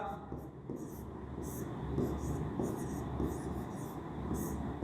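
Pen scratching on paper while working through a class 10 maths problem, a close rhythmic series of short strokes running under steady talking.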